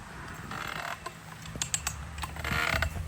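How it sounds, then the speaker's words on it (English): A composite dock auger driven into gravel with a pole and ratchet creaks under strain, giving close, intermittent groans, clicks and sharp pops over a few seconds. "You can hear that thing creaking down in there."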